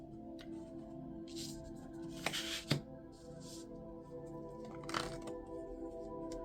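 Tarot cards being shuffled and drawn for a Sagittarius reading, giving soft continuous rubbing and riffling with a few sharper snaps and slaps as cards are pulled and laid down, close and fairly quiet over a steady low hum.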